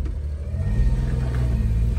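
A Suzuki Carry mini truck's small engine rumbling at low speed while squeezing into a tight parking spot, a steady close-up idle with a slight swell in throttle.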